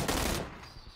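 Rapid bursts of video game gunfire crackle loud and dense for the first half, then fade into a lower, busier wash of game noise.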